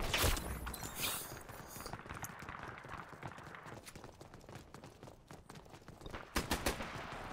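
Gunfire from the video game Dirty Bomb, with bursts of rapid shots and sharp cracks at the start and again near the end, layered over busy footsteps and battle noise, with no talking.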